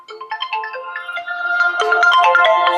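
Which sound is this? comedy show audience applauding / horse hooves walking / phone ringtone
phone ringtone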